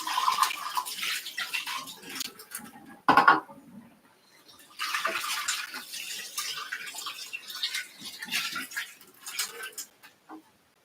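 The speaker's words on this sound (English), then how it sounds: "Let's give it a rinse and see." Parts of a coffee press are rinsed under a running tap, water splashing in uneven bursts that stop briefly and then resume, close and moderately loud.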